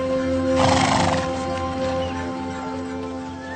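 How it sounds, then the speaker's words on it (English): A horse pulling a sleigh neighs loudly near the start while its hooves clip-clop steadily. A constant tonal hum runs underneath the whole sound. "A sleigh ride."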